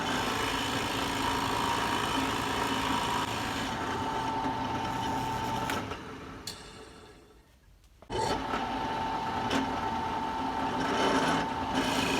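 Steady rasping and scraping of a cutting tool working into green wood while carving a spoon from a tree limb, continuous and close, with a brief drop to near quiet partway through before the cutting resumes.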